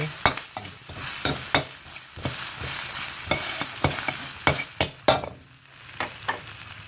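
Sesbania flowers stir-fried in a pan for a dish with egg and Chinese sausage, a continuous sizzle broken by repeated sharp spatula scrapes and knocks against the pan.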